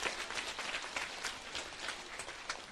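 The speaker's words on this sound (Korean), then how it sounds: "스님의 노고에 다시 한번 감사의 박수 부탁드립니다." An audience in a Buddhist temple gathering claps in a steady, dense round of applause, fairly faint and even throughout, with no talking over it.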